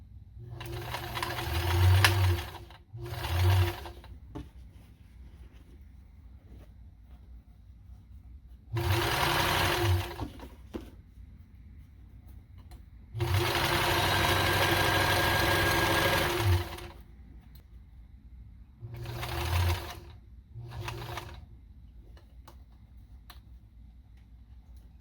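Sewing machine stitching a bag seam, running in six separate bursts of rapid, even mechanical whirring, the longest about four seconds, separated by quiet pauses.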